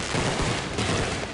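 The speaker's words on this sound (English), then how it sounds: "Illegal fireworks once again putting communities, people, and pets in danger." Illegal fireworks go off in a dense, continuous crackling barrage of rapid pops and bangs, loud and unbroken like a fusillade, in a neighborhood during the holidays.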